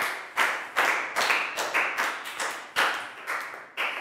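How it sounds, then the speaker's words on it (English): A primary school class claps in unison, about a dozen sharp synchronized beats in a quick steady rhythm, close and clear with no talking. "High five, big round of applause for Net."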